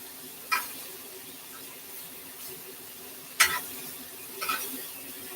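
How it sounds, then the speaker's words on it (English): Chicken sizzles softly in a grill pot while a utensil scrapes and stirs, with a few sharp clanks standing out against the steady hiss. "So I'm just stirring this around in my grill pot."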